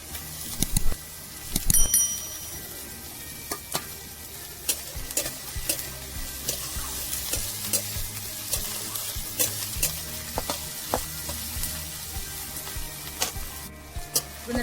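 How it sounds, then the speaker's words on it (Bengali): Chilli, ginger and garlic hit a wok of lightly fried onions with a near, crackling sizzle, broken by repeated metal spatula scrapes and clinks as they are stirred, with no talking. "এবার লঙ্কা আদা আর রসুনটা দিয়ে দেবো"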